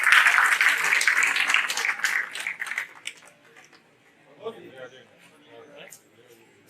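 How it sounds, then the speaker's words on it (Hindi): Audience applause at a golden jubilee ceremony in Patna, loud clapping at the start that fades out after a few seconds, followed by quiet murmuring and faint voices. "तालियां बजाएं।"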